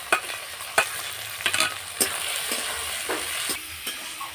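Vegetables that were fried earlier are tipped into a pan of chickpea dal and stirred, giving a steady sizzle with sharp scrapes and clacks of the spoon at irregular moments.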